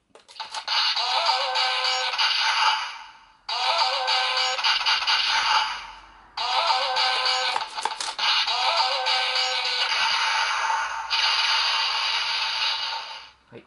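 A Kamen Rider Gaim Hinawa Daidai DJ Gun toy plays its matchlock attack sound three times in a row, each a bright, buzzy electronic burst lasting a few seconds with short pauses between.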